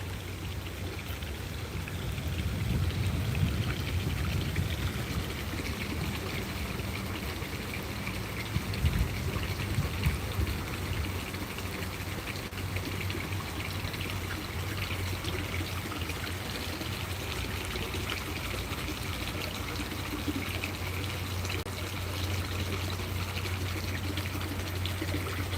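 Small garden fountains splashing and trickling during a rain shower, a continuous pouring, bubbling wash of water close by with a few louder splashes, steady throughout and with no talking.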